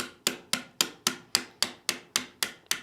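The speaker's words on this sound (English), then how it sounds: "take your hammer and start tapping the pin" A hammer taps a pin into a pistol frame: eleven sharp, evenly spaced metallic taps, each about a quarter second apart, close and fairly quiet with no voices.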